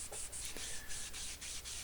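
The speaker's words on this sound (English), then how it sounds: "So a little sanding action on both the Wenge and the zebra wood" Blocks of Wenge and zebra wood are rubbed back and forth on sandpaper in rapid, even strokes, a close, steady rasping rhythm with no talking.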